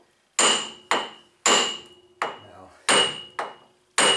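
A hand hammer strikes metal in about seven sharp, ringing blows at an uneven pace, each one close and loud and decaying quickly into silence.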